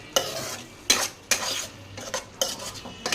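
Paneer being stirred into a curry in a pot, a series of sharp spoon scrapes and clinks against the pan in an irregular rhythm over a faint sizzle, no speech.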